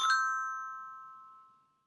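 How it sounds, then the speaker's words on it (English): A single bright chime rings out and slowly fades away, clear and close in otherwise silent surroundings. "Turn the page when you hear the chimes ring"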